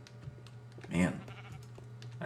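A sheep in Minecraft gives a single short bleat midway, faint against quiet game ambience and light clicking.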